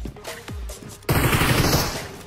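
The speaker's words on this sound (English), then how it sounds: "He's got an Uzi." Uzi fire in the battle-royale game PUBG Mobile during a scrim match: a rapid automatic burst erupts after a second of quieter game sounds, dense and loud, rattling on to the end.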